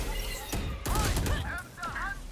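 Rapid bursts of VALORANT gunfire crack in quick succession under an excited commentator's voice during a tournament match.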